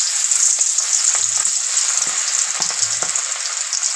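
Chicken pieces fry in hot oil with a bright, constant, crackling sizzle close up. Occasional soft scrapes and bumps of a utensil break through it, and no one speaks.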